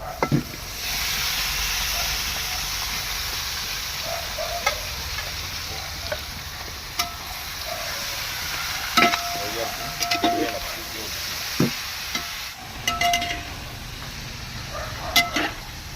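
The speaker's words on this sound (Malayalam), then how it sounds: "ഇനി നമ്മൾ കോഴി ചേർക്കാൻ പോവുകയാണ്." Chicken pieces added to a hot pan for a home-style Kerala chicken roast with coconut bits, sizzling steadily throughout, with clinks and stirring knocks, under a voice talking.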